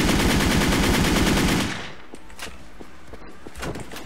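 Machine gun firing a fast, sustained burst in the online shooter Wolfteam, loud and close, then stopping abruptly and giving way to a few scattered lighter impacts and clicks.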